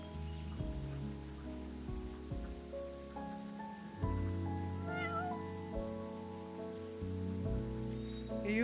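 Cat meows from a video game, heard over a steady game music backdrop with no talk.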